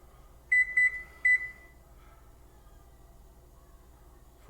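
A kitchen timer set beside an oven gives three short, clear electronic beeps in quick succession, close and alone in a quiet kitchen with faint background hum.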